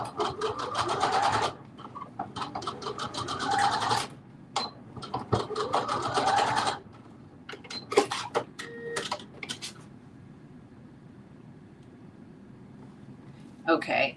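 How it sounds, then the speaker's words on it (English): A sewing machine joins the front and back pieces of a Simplicity 9648 garment with a 5/8-inch seam, running in fast whirring bursts with short pauses and a few clicks in between, close and loud. "we're gonna stitch together the front and the back at the right side."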